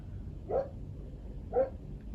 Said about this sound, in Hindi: दो एक कुत्ते भौंक रहे थे।